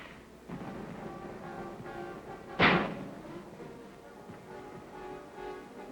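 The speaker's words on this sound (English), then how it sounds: "the mortars lend their explosive voice to the artillery pounding" Mortar fire supporting artillery in a 1951 Korean War newsreel, one sharp, loud blast standing out against a quieter rumbling background, with fainter thuds around it.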